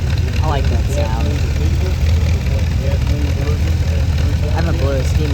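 A 1956 Oliver tractor engine runs at a steam and gas engine parade, a steady low chugging idle heard close while people talk over it.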